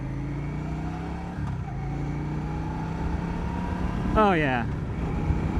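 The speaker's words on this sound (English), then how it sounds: "it's got some low-end torquey grunt to it, and only the way a V-twin can have" A Yamaha V Star 650 Classic V-twin motorcycle engine runs with a steady low, throbbing rumble throughout, while someone speaks briefly over it.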